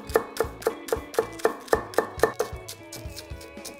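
A knife finely minces one scallion on a cutting board with a quick, even series of close, crisp chops that speed up and then trail off into lighter taps.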